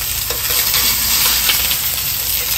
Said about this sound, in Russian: Ой, как здесь брызгает, брызгает.